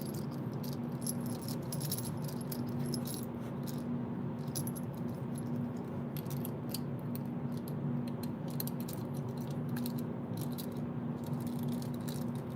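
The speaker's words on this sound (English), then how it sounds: "This is one of my keys right now." Keys on a keyring with a wristlet jangle and rattle in quick, irregular bursts close to the microphone over a steady low hum, with no talking.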